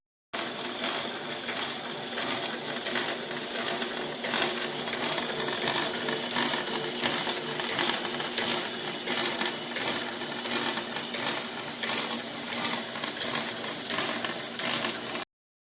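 A hydraulic power hacksaw machine cuts metal held in its vise, giving a fast, steady, rhythmic mechanical clatter and rasp that repeats evenly for the whole stretch, close and alone without talk.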